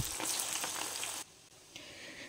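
Mixed vegetable Manchurian balls dropped into hot oil erupt in a loud, bubbling sizzle up close, which then drops away abruptly to a fainter hiss.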